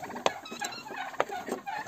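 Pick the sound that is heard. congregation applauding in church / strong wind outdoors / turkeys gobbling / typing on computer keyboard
turkeys gobbling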